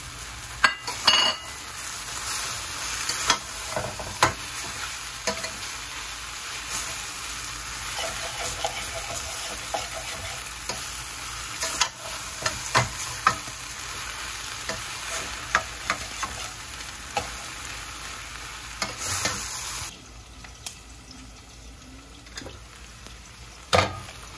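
Water spinach greens sizzle steadily in a pan while a spatula stirs and scrapes in irregular bursts, loud and close, with no talking.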